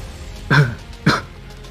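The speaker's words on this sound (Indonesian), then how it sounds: "Kemudian, Bibidong tiba-tiba batuk" Two short, sharp coughs about half a second apart, close and fairly loud, with quiet background between them.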